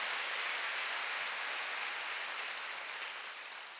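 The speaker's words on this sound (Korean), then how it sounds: "박수 좀 세게 쳐봐요" A church congregation applauds during a Sunday worship service, producing a dense, even wash of many hands clapping that holds steady, then slowly fades toward the end.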